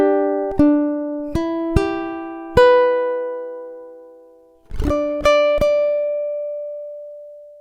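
Measures 19–20 of a song are plucked on a ukulele: a handful of clean, close single notes ring out and decay, with a short pause before the final notes and a last tone left sustaining.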